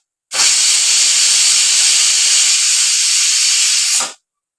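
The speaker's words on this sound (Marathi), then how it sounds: "कुकरच्या 2 शिटी झालेल्या आहेत।" A pressure cooker on a medium flame, holding cream to be turned into ghee, lets out a loud, steady rush of hissing steam for about four seconds, then cuts off abruptly, with no voices.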